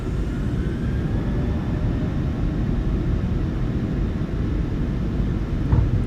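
Steady, loud roar of airliner jet engines spooling at takeoff power in Microsoft Flight Simulator 2024, a continuous broadband rumble heard from the cockpit without pause.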